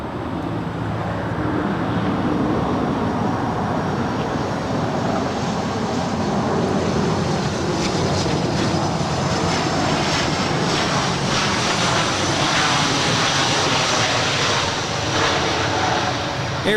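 A CRJ 200 regional jet at LAX airport roars with a steady, loud, broadband rumble that holds unbroken for the full stretch, close by and with no voices over it.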